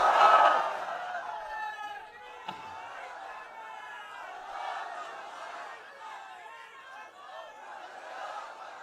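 A large crowd at a Bengali Islamic sermon gathering roars "Allahu Akbar" back in a sustained, loud chorus of many voices after the preacher's takbir call, with some shouts rising above the rest.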